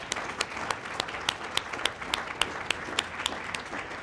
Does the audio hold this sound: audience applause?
yes